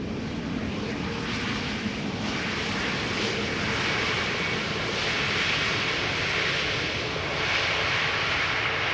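EasyJet airliner arriving at Amsterdam Schiphol Airport, a broad, steady jet engine roar heard at a distance for the whole stretch with no talk over it.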